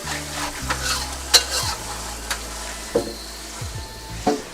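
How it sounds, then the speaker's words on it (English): A metal spatula scrapes burning, stuck-on debris around a hot wok, with sizzling and several sharp scraping strokes and clanks at uneven intervals, close and fairly loud. "I actually did a little bit of scraping because it was sticking around a little bit more than I'd like"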